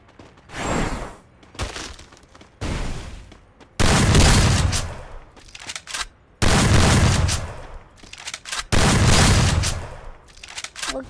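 Shotgun blasts in the Free Fire video game: several loud, booming shots with sharp cracks arriving in separate bursts, each fading out before the next, with no talking.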